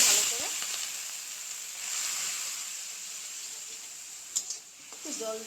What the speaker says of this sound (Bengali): ভালো করে মশলাটা ভাজি করে নেব।